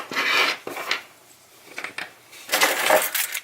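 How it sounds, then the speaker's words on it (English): Small metal spacers clink and scrape as they are pulled out of a KeySmart Pro key organizer, in short close bursts separated by brief pauses. "Alright, so let's take out all the spacers."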